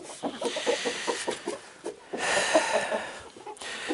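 Chicks in a poultry house peck and cluck in soft bursts at close range while damp litter is cleared. No voices or other sounds cover them.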